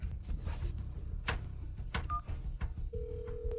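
A telephone rings unanswered in a dramatic scene, with a repeating tone over a busy background of thumps and clicks, ending in a sustained steady beep.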